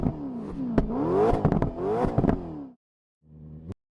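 Car engine revving in a few rising and falling bursts, loud and close, then a brief lower idle-like rumble after a short gap.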